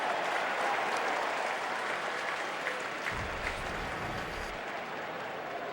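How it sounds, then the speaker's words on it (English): Philadelphia baseball crowd in a 2010 playoff game booing Scott Rolen, a sustained, dense roar of many voices filling the stadium at steady loudness throughout. "you're wondering why Rowland gets booed so loudly"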